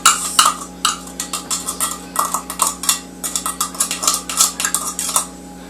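Green chilies being mixed in a bowl with a utensil, a quick series of close clinking and scraping strikes in an irregular rhythm over a faint steady hum.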